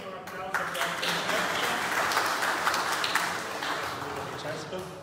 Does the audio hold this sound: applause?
yes